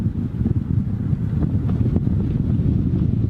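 Steady side wind buffets the microphone on a boat at sea, a continuous low rumbling roar with gusty surges and no talk.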